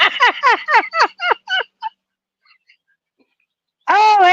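Birds calling outdoors: a rapid run of loud, close, warbling calls, then a short quiet gap, then another loud sustained call.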